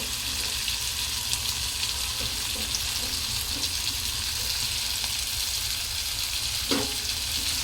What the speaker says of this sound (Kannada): ಇವಾಗ ನಾನು ಕಟ್ ಮಾಡಿ ತೊಳೆದಿಟ್ಕೊಂಡಿರೋ ತರಕಾರಿ ಹಾಕ್ತಾಯಿದ್ದೀನಿ